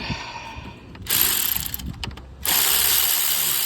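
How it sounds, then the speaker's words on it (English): Angle ratchet working a bolt on a Kia Sorento 3.5L during an alternator replacement, two long bursts of fast buzzing clicks with brief pauses between, close and loud, with no talk. "get this angle ratchet"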